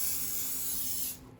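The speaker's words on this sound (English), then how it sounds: "the butter flavored non-stick cooking spray" Butter-flavored non-stick cooking spray hisses from the can into a glass baking dish in one steady, close burst lasting about a second, then cuts off.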